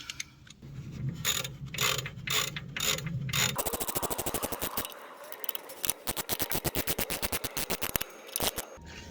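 Ratchet tightening the bolts on a BMW E92 rear shock absorber: slower clicking strokes come first, then a long run of fast, even, close ratchet clicks for several seconds, loud and without talk.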